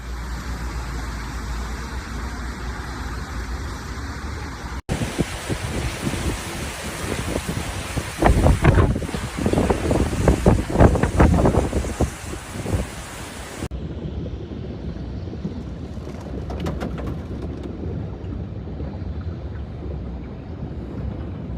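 Heavy rain and sweeping wind of a storm in the UAE, around Dubai, roar as a steady broadband wash, swelling louder in the middle with gusty, rumbling bursts before easing back to a constant hiss.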